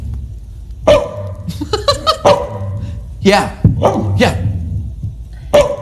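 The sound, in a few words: dog barking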